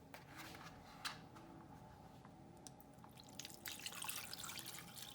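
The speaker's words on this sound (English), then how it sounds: "just put enough water that you've almost covered up the pot" Water pours and splashes into a pot of fruit and ginger, a faint, close, continuous trickle with small drips and sloshes over a low kitchen hum.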